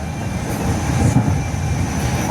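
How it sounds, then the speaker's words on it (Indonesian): The Tegal Bahari passenger train rumbles loudly through Cikampek station, Indonesia, passing fairly slowly, a sustained heavy roll of wheels and carriages with faint metallic squeals. "kita bakal lihat detik-detik kereta api Tegal Bahari melintas langsung stasiun Cikampek"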